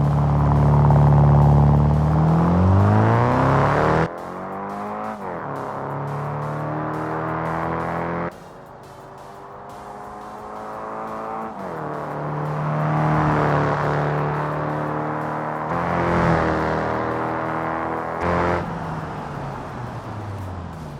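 A high-performance car with an upgraded exhaust in BeamNG revs hard and loud, its engine pitch sweeping up and down through several throttle blips before settling into a steadier rumble, heard alone without voices.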